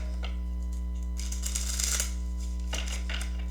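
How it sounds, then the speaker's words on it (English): Tarot cards riffle and shuffle in a couple of short bursts over a steady electrical hum, close and fairly quiet. "All right, one more shuffle."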